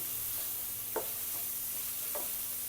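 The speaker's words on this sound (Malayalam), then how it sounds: "ഞാനത്തേക്ക് ഇതിട്ട് കൊടുക്കാം നല്ലതുപോലെ ഒന്ന് ഫ്രൈ ആവണം" Ginger curry fries quietly in a pan, a soft continuous sizzle with a few faint stirring scrapes.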